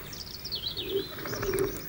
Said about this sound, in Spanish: Muy distinto ocurre con las palomas de la laurisilva.